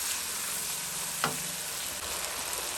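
Tinda with spices, chili flakes, garam masala, salt and nigella seeds, sizzles steadily in a pan with a single sharp scrape of stirring partway through, close and constant with no talking.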